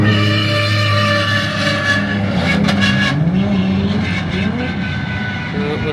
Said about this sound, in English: Listen to the gearbox.